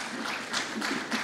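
An audience applauds to welcome minister C R Paatil onto the stage: a steady wash of clapping, moderately distant, with a few louder swells.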